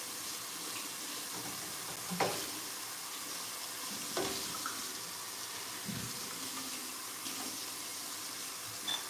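Potatoes fry in a pan on a home breakfast stove with a steady, hissing sizzle, close and soft, broken by a few scraping stirs and clinks, with no voices.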